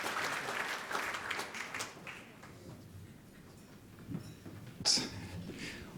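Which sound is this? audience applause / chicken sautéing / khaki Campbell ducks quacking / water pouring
audience applause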